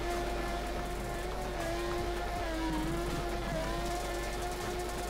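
A Mazda FD RX-7 drift car in Torque Drift howls at high revs, its steady engine tone stepping through gear shifts with faint tire noise underneath.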